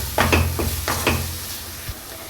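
Fennel, cumin and chilli powders being stirred in a frying pan, several quick scraping strokes in an irregular rhythm over a soft sizzle, close up.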